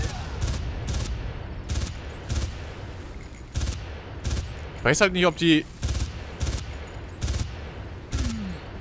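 Player gunfire in Far Cry 1: a steady run of sharp, loud game shots, roughly one every half second across the whole stretch, with someone talking briefly in the middle.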